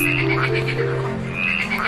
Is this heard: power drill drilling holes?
no